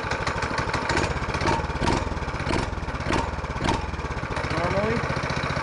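A Lifan 6.5 hp Honda-clone small engine, freshly rejetted and with its choke on, catches on the first pull and runs with a fast, loud, uneven chug that hunts up and down. A voice talks over the engine.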